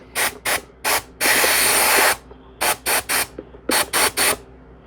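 A steam cleaner hisses in bursts over baitcaster reel parts such as the side plate, spool and chassis: three short blasts, one long steady spray of about a second, then two more groups of three short blasts, loud and close with no talking.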